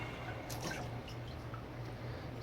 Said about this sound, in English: another dip and a wring out